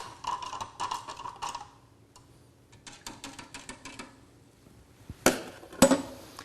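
A spoon stirs dirt into water in two cups, giving scattered light clinks and taps against the cups in short bursts, with sharper knocks near the end.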